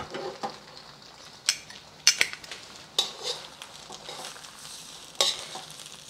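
Tongs toss al dente pasta through sizzling garlic butter in a pan: a hot fry hiss with sharp metallic clacks and scrapes landing every second or so, close and fairly loud, no talking.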